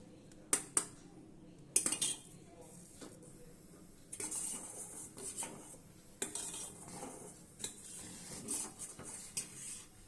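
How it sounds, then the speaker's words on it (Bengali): A spoon stirs boiling milk in a pot for kalakand sweet, giving sparse, quiet clinks and scrapes of metal against the pot over a low, steady background. "আমি আরেকটা চামচের মাধ্যমে দুধটাকে ভালো করে নেড়ে নেব"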